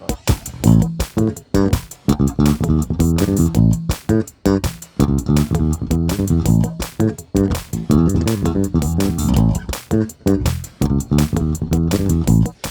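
A clean electric guitar through a 560 picofarad pickup capacitor plays a rhythmic passage of strummed chords and picked notes, bright and forward, continuous for several seconds with no talking.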